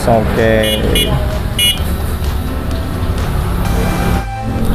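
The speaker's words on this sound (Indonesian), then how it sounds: "Nah, ini suara klaksonnya guys." Horn of a Goda 140 Monkey electric bike, sounding as a few short electronic beeps near the start, with talk over the rest.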